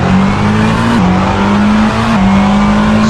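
An LMP2 prototype race car in the Assetto Corsa racing game drones at high revs, its engine note holding steady with a couple of quick gear-change dips, loud and close with no talking.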